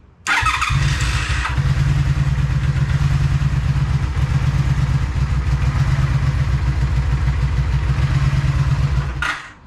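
A 2002 Honda Magna VF750C motorcycle that had not run in months, with a bad carburetor, cranks, catches and settles into a steady, loud, close idle with a rough clattery rumble before cutting off abruptly.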